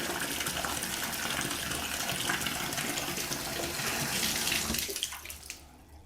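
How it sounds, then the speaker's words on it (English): Tap water gushes steadily into a slow-draining bathtub, a loud continuous rushing pour that cuts off near the end, leaving a faint trickle and drip. "we're just going to run some water here"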